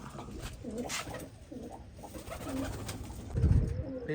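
Pigeons coo repeatedly at close range as they drink water dosed with liver medicine, a steady run of soft throaty calls with a louder burst near the end and no talk.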